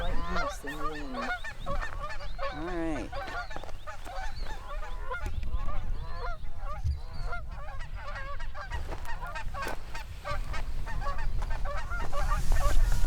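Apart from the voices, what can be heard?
geese honking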